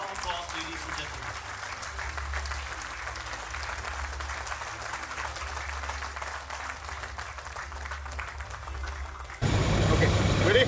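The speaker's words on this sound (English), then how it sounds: "A round of applause, ladies and gentlemen." Steady applause from a crowd fills the whole stretch, growing louder and denser near the end, with a low rumble underneath.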